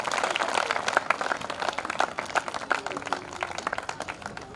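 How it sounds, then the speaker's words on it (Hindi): Audience applause at a Hindi kavi sammelan poetry gathering, a dense wash of many hands clapping steadily for several seconds with no voice over it. "एक बार जोरदार तालियां बजाइए।"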